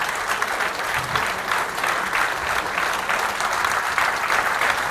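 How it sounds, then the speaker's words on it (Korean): Dense, steady applause from a crowd at a meeting between national party leaders and lawmakers and local residents of Seongju, sustained at even loudness throughout with no gaps. "박수 부탁드리겠습니다"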